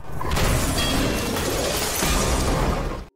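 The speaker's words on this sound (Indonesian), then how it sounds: "Dan ketika kaca bus pecah," Bus window glass shattering in a film scene, golf balls hurled hard against it: a loud, dense crash of breaking glass that fills the whole moment and holds steady before cutting off abruptly.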